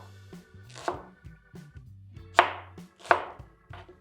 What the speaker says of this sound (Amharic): እሱን ሽንኩርታችንን በስላይስ መክተፍ ነው